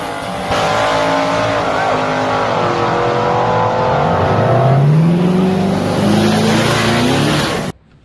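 A twin-turbo Coyote-powered Ford Fox body race car accelerating hard at a drag event, its engine note rising through gears in loud, close sweeps with a roaring pull before cutting off abruptly.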